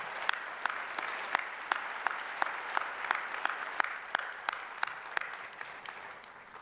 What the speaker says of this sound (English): Let's give another round of applause for our doctoral PhD candidates.